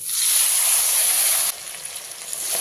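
Chopped tomatoes with Kashmiri chilli powder hiss loudly as they hit the hot oil in a pan of okra. The sizzle is steady and close, then drops to a quieter simmer about halfway through.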